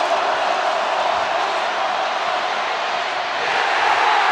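Stadium crowd at a Missouri at Georgia college football game, a broad, steady roar of cheering that swells slightly toward the end, heard from a distance with no clear voices standing out.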